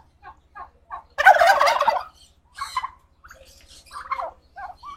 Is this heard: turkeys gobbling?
yes